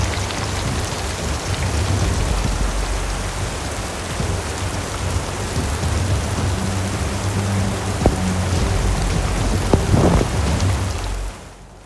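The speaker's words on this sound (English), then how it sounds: "I just had to stand there in absolutely pouring rain" Heavy, steady pouring rain in the Lake District, loud and continuous broadband hiss with a few sharper drips or taps near the end before it cuts off.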